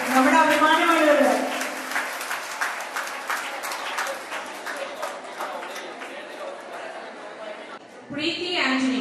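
Audience applause for a school's top students at a St Mary's CGHSS reunion, steady clapping from a crowd that fades, with a voice speaking over it at the start and end.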